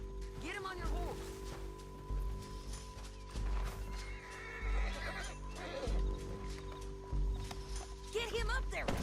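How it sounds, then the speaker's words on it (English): Horses neighing and whinnying with clip-clopping hooves in the Red Dead Redemption 2 video game, repeated whinnies over galloping hoofbeats and background music, with voices talking throughout. "Get him on your horse."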